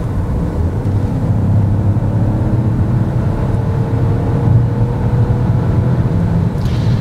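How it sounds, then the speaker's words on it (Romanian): A Peugeot 2008 engine heard from inside the cabin, a steady muffled drone that rises slightly as it revs, with no talking. "Haideți să vedem cum sună acest motor când e turat un pic mai mult."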